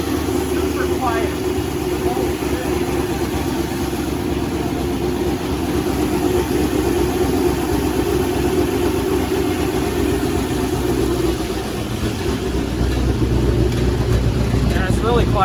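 A turbocharged LS-swapped Mazda Miata idles with a steady, fairly quiet low rumble that holds evenly throughout, with people talking faintly over it.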